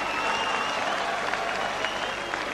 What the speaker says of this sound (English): you can just kind of tell by the way the crowd applauds after each round